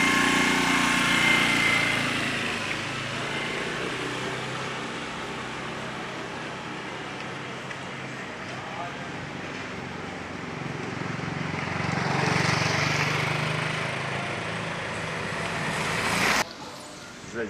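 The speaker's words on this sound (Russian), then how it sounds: "Первый раз езжу на скутере" A scooter engine drones steadily while riding in Thailand, rising slightly in pitch as it revs, with rushing wind noise, then cuts off abruptly near the end.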